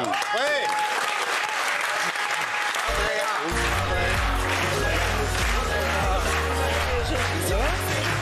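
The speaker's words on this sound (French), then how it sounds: "Je vous demande de l'applaudir" A TV studio audience applauds a newcomer on a French show, a loud, continuous wash of clapping with some crowd noise, while a low musical tone and voices run beneath it.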